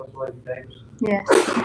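A sharp sneeze bursts out during a city council roll-call vote, right after brief spoken replies in a meeting room.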